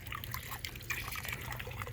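Water trickles and pours steadily into a container being filled outdoors, a soft continuous splashing flow at low level that runs the whole time.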